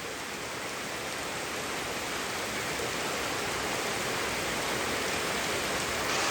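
Steady rain falling outdoors, a dense, even hiss that stays constant throughout with no other sounds on top.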